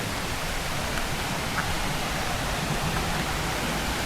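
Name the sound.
waterfall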